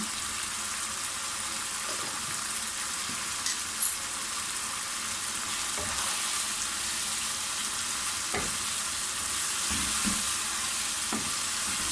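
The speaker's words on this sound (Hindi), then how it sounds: "अच्छे से भुनाई हो रही है इसकी" Mutton frying in oil in a pot for Sindhi biryani, a steady broadband sizzle throughout with occasional stirring scrapes and clinks, close and continuous with no talk.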